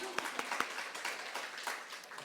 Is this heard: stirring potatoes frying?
no